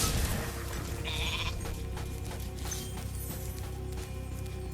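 Sheep bleating in the Artisans level of the video game Spyro Reignited, a short game bleat rising over steady background game music and ambience, with no talking.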